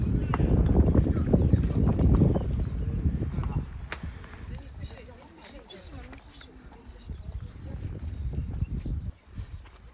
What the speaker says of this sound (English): You can see you got a pick of the horses.